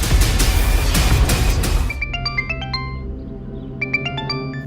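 A mobile phone rings with an incoming call, a bright melodic ringtone of repeated chiming notes playing twice after a burst of louder noise, with low background music underneath.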